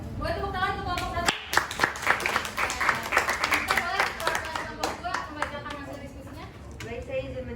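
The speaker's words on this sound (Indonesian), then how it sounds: "boleh tepuk tangan untuk kelompok 1." Students in a classroom clap for a student group, a burst of close, uneven hand clapping with overlapping voices and chatter that runs through most of the clip.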